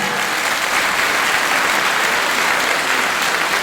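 An audience at a town public meeting applauds the outgoing municipal team: dense, continuous clapping from many hands, loud and even from start to end with no talk over it.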